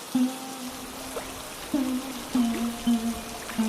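Cartoon rain and flood water: a steady trickling, pouring wash with scattered drips, while repeated tonal cartoon effects sound over the top.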